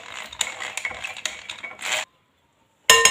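A spoon stirs fruit juice in a container with quick, close clinks and swishes for about two seconds, then brief silence, then another burst of stirring.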